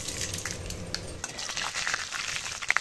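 Chana dal, cumin and mustard seeds frying in hot oil make a close, steady sizzle and crackle with light spoon scrapes and a few quick pops at the end.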